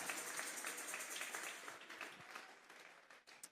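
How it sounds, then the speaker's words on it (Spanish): A church congregation applauding during a Sunday service, a sustained wash of many hands clapping that thins out toward the end, faint and distant. "Denle una ofrenda de palmas a Dios en esta hora."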